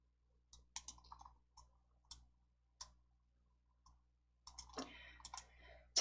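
Computer mouse clicks while working in PowerPoint, sparse sharp single clicks spaced a second or so apart, then a quicker cluster near the end, close and quiet over a near-silent room.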